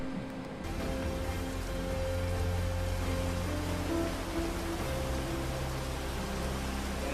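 Steady rain pours down in a jungle, a dense, even hiss of drops on leaves and surfaces that holds unbroken throughout, with a low constant rumble underneath and no voices.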